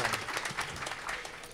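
An audience applauds the musician Tato in a brief burst of dense, steady clapping that fills the space evenly from start to finish.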